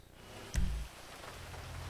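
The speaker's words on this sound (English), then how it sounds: "It's raining. Oh, well. That rain on my screen." Steady rain in the video game GTA 5, a soft continuous hiss throughout, briefly masked by a low thump near the start.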